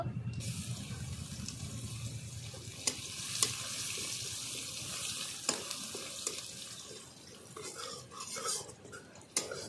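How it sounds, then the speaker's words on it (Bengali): Crushed garlic frying in oil in a pan while cooking prawns with taro greens, a soft continuous sizzle broken by occasional light clinks and scrapes of a utensil, no voices. "আমি একটা রসুন থেতো করে নিয়েছি দিয়ে দেব"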